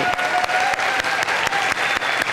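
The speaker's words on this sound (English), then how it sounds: "can we give them a round of applause?" A church congregation at a seaside Sunday service claps in a sustained round of applause, dense and steady throughout with a few sharper bursts, with no talking over it.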